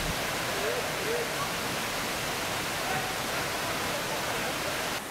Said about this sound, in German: Überall gibt es riesige Wasserfälle. Wir können ihn schon von weitem hören.